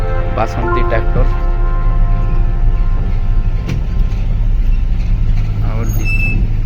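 A loud, steady diesel engine rumble from a tractor in a rural Sambalpuri village setting, continuous and close, with occasional horn-like tones and faint voices in the background.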